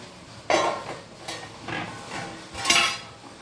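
A metal lid comes off a pan of fenugreek leaves cooked with moong dal, giving a few close clanks and scrapes spread over a few seconds, with no talking.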